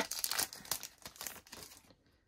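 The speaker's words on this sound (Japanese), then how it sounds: "カード切らないように注意して開封します" Crinkly plastic foil of a Pokémon TCG 151 booster pack, Mew artwork on the wrapper, ripping and crumpling in a few quick close bursts before it falls quiet.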